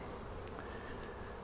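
Honey bees hum steadily around hives in a bee yard, a faint, dense, even drone with no voices.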